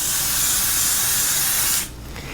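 Adhesive spray hissing steadily onto freezer paper from about six inches away, a loud continuous aerosol burst that stops abruptly near the end, leaving a faint quiet tail.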